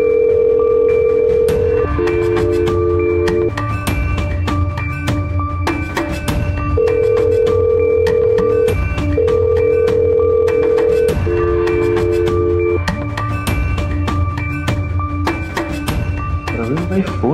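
A telephone rings unanswered, its repeated two-part ring pattern sounding over busy background music and noise for most of the stretch before stopping.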